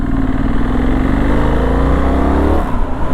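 Benelli Leoncino 800 T roadster with knobby tyres and its classic inline twin engine, running steadily close by with a continuous throbbing growl that rises slightly in pitch, then eases off near the end.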